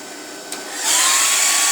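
A heat gun switches on close by while heating an alloy wheel rim protector, rising within a second into a loud, steady, airy blowing roar.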